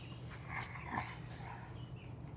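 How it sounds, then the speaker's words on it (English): A small, quiet snort from a dog near a cage of quail, soft breathy puffs close by against a low background hum. "that little snort is my dog"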